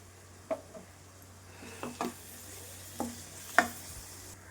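A ground tomato-onion paste is sautéed in a pan for a mutton curry, with a low steady sizzle and a few distinct scraping stirs of a spoon spaced about a second apart, close and quiet, with no voices.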